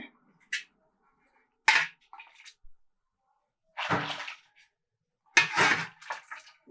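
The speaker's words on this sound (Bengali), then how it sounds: "এই বাটিতে আমি মেপে দু বাটি জল দিচ্ছি এখানে" Water poured from a bowl into a cooking pot, a few separate splashing pours with quiet gaps between them, close and fairly loud.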